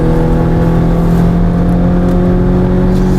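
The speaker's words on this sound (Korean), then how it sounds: "엔진 사운드 좀 거슬린다." A Volvo V60 Cross Country's engine is held at high revs around 6,000 rpm during a test drive, a loud, steady, droning whir with a harsh tone, heard alone without talk.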